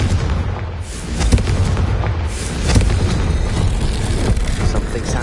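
Fiery Confringo spell blasts from the video game Hogwarts Legacy, a dense, loud rumbling burst sustained across the whole stretch with a sharper boom near the middle and another surge toward the end, thick low-end roar throughout.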